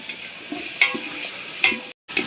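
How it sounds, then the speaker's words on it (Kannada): Tomatoes frying with browned onions in a pan, stirred in a few brief scraping strokes over a steady soft sizzle, close and alone with no voices. "ಈಗ ಟೊಮೆಟೊ ಹಾಕೊಳ್ಳೋಣ. ಫ್ರೈ ಮಾಡ್ಕೊಳ್ಳೋಣ."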